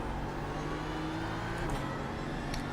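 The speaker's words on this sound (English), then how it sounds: "the whistle that the actual BMW engine makes at the end" A BMW M4 GT3 race car engine in a racing game hums steadily at a constant pitch, with a faint high whistle over the drone and no voices.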